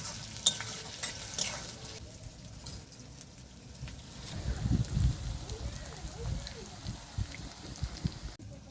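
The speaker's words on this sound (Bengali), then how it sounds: "এখন আমি পেঁয়াজটাকে ভেজে নেব। পেঁয়াজটাকে একটু আমি লাল করেই ভাজবো।" Onions frying in oil until reddish for a village-style mourala fish curry, with a soft steady sizzle and occasional spatula stirring and scraping, fairly faint and a little rough in places.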